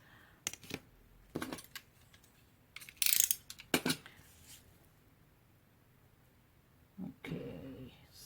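Paper being trimmed for a handmade art journal, with a few short, sharp cuts and snips spaced out across the clip, close and fairly quiet, and no voices.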